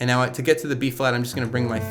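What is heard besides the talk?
No everyday noises stand out.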